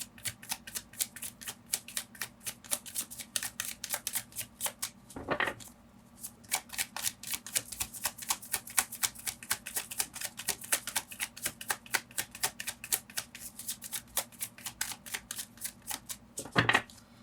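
Long stretch of tarot cards shuffled up close in rapid rhythmic riffles, quiet and crisp, with a couple of brief pauses and no speech.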